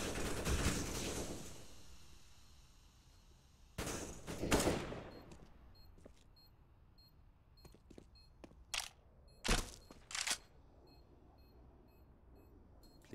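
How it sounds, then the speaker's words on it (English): Counter-Strike: Global Offensive gunfire on the Overpass map: a dense burst of automatic fire at the start, another around the middle, then scattered single sharp shots and short bursts, some loud, others distant. "But against that AK, Issa just too quick on the headshots."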